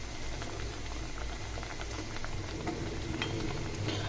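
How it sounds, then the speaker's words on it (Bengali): Pakon pitha snacks frying in hot oil and puffing up, a steady dense bubbling and crackling sizzle that holds close and even throughout with no voices. "এভাবে তেলের মধ্যে ছেড়ে দিলে আপনা আপনি কিন্তু নাস্তাগুলো ফুলে যাবে।"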